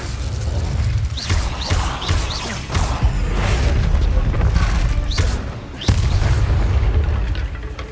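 The Incendio fire spell in Hogwarts Legacy, with a sustained roaring rush broken by several sharp booming bursts, loud and close, set against game ambience.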